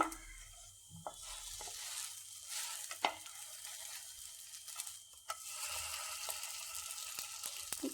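Rice-batter ada crisping in a pan, a steady soft sizzle of frying with occasional scrapes and taps as it is turned over, close and continuous with no talking.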